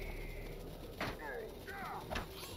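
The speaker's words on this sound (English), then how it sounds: "Here comes the Murder of Crows." Crows summoned by the Lore-master's Murder of Crows skill in Lord of the Rings Online caw in a few short, faint calls over steady game background noise and a low hum.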